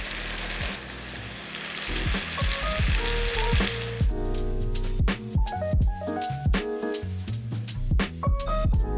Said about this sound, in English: plonk it into the oil and flatten it a little bit with a spatula, and then turn it over so that it's fried on both sides